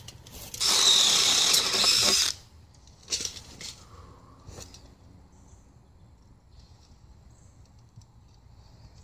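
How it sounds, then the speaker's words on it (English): A power drill whines loudly for about a second and a half, followed by a few short, quieter bursts of tool noise, then near silence. "We're going to drill another hole."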